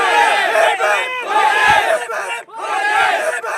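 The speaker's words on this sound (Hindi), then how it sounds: "जोरदार तालियां" A large crowd at a local premier league cricket final roars with loud sustained cheering and shouting in surging waves, with a brief dip before the voices swell again; clapping is buried under the yelling.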